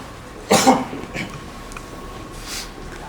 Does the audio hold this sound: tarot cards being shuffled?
no